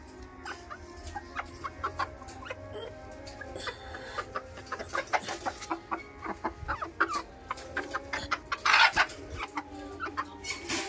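Several desi chickens cluck and chatter in short, irregular bursts, fairly close, with one louder squawk near the end.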